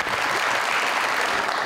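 Dense, steady applause from a studio audience on a TV talk show, filling the whole short stretch at even strength with no voices over it.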